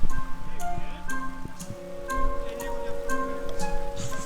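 Rain patters steadily on a surface with scattered drop ticks, mixed with a low hum and faint tonal background sounds; no speech.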